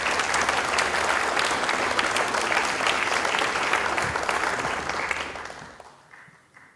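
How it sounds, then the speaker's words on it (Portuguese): Audience applause at an academy inauguration ceremony in São Paulo, a full, sustained wash of clapping from a seated crowd that fades out near the end. "Uma salva de palmas aqui para os dois."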